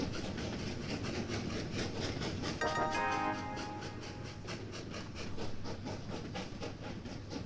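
Trains rolling along tracks in the video game Train Valley, a steady low rumble with faint rhythmic clicking and a brief brighter mechanical squeal partway through, moderately quiet and without speech.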